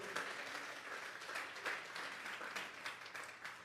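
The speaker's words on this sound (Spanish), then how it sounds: "denle esa ofrenda de palmas" Church congregation clapping together during a Sunday service at the pastor's call, a sustained, even wash of many hands at moderate distance with no voices on top.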